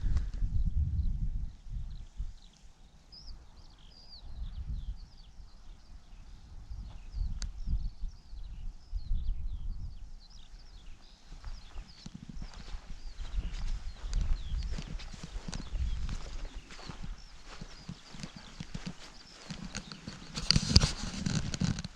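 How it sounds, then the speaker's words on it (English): Footsteps crunch and pad steadily along a Dartmoor moorland trail, close and rhythmic, while small birds chirp faintly in the open distance. "Nothing but bird noise and your own footsteps."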